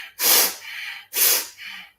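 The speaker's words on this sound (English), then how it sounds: "Gear three is in and out the nose, power for both of them" Two forceful breaths pushed in and out through the nose as part of a breathing exercise, each a loud rushing sniff followed by a slightly softer exhale, close and alone with no talking.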